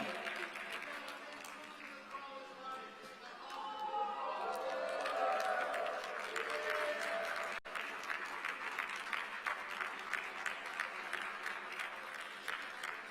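Sustained applause from an audience at a UNWTO General Assembly awards session for rural tourism, moderately distant and continuous, swelling slightly midway, with cheers and murmured voices blended into the clapping.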